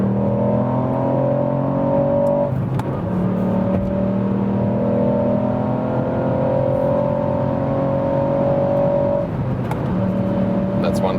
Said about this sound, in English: And now once again acceleration when we are already at speed, going from about 100 kilometers to whatever.